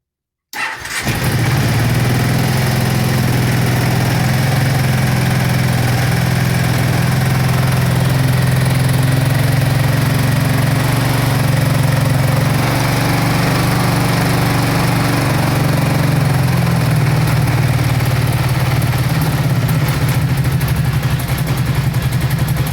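A 2005 Kawasaki Brute Force 750 V-twin ATV engine, recently fixed after a leaking fuel line, starts in cold weather with the choke on and settles into a steady, loud, close idle that runs alone the whole time.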